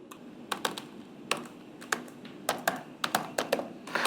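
Quick bursts of keystrokes on a computer keyboard as a database query is typed, irregular clicky taps in short clusters, close and fairly quiet against a soft room hiss.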